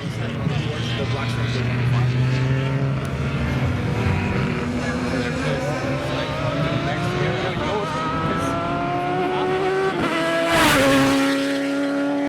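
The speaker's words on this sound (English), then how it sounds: "This is powered by a small Suzuki Hayabusa engine, so it's around 220 horsepower I believe." Time attack race car powered by a Suzuki Hayabusa motorcycle engine of around 220 horsepower, its high-revving engine droning and shifting pitch as it passes, with a speaker talking over it.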